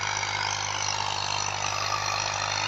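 A 2000-model Massey Ferguson 240 tractor engine running steadily nearby, a constant low rumble with an even mechanical drone and no change in pace.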